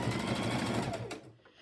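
A sewing machine runs steadily while stitching a strap onto a tote bag, its fast rhythmic whir close and loud for over a second before the motor slows and stops.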